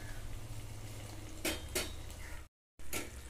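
A metal lid clanks down onto a pot of simmering green beans cooked with chicken skin: two close, bright clinks, then a brief dropout and another metallic knock over a steady kitchen hum.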